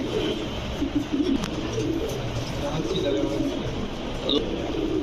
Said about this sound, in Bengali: দর্শক লাল চিলা পাথর চোখের দেখেন কবুতরগুলা